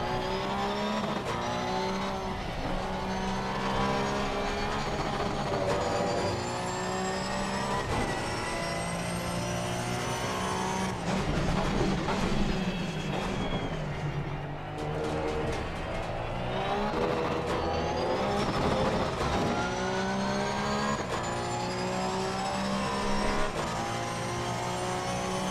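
Race car engine in Assetto Corsa Competizione, a GT car on track, revving steadily and shifting through gears, with loud continuous engine tone and occasional tire squeal throughout.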